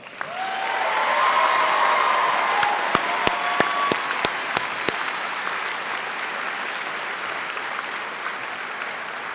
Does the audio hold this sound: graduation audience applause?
yes